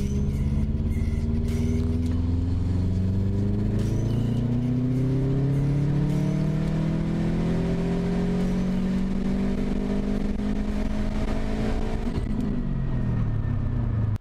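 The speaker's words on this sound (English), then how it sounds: "We'll do a fourth gear pull." A Subaru STI hatchback tuned on E85 pulls hard in fourth gear, its engine note rising steadily in pitch over a loud, continuous in-cabin drone and road rumble, then easing off at the end.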